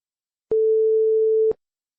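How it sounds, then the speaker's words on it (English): A single steady electronic beep lasting about a second, clean and alone against silence, marking the start of an extract in an OET listening test recording. "At the start of each extract, you'll hear this sound."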